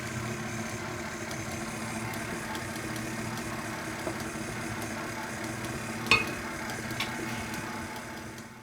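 An electric mixer on low speed beats cupcake batter with milk and vanilla, giving a steady, even whir that stays level throughout, with a single brief clack near the end.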